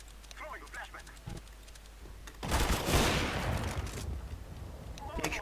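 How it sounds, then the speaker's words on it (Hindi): Gunfire in a multiplayer battle royale shooter erupts as a dense burst of shots partway through, over a low background hum, with players talking before and after. "एक शॉट था"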